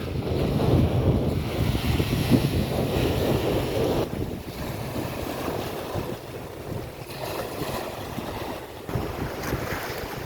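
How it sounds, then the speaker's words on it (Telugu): Sea waves in Kuwait crash and wash continuously against the shore, loud and close, with heavy wind buffeting the microphone throughout. "చూడండి ఫ్రెండ్స్, నీళ్ళు అల్లలు ఎట్లా కొడుతున్నాయో."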